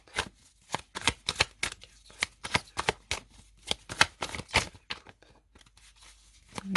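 Tarot cards are shuffled close up in a quick series of crisp riffles and snaps, bursts of papery clatter with short pauses between them and no talking.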